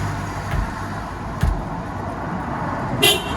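A few short Isuzu car horn toots sound over a steady background hum, with brief honks spaced apart and one sharper beep near the end.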